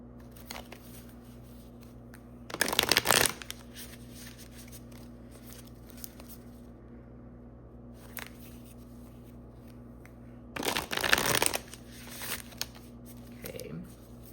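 A deck of Work Your Light oracle cards is shuffled in two short bursts of rapid riffling and flapping, close and crisp, separated by quiet handling noises over a low background hum.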